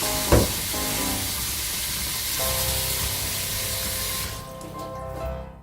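Tap water runs steadily into a bowl being filled to wash fruit for homemade fruit syrup: a continuous close splashing hiss that stops abruptly near the end.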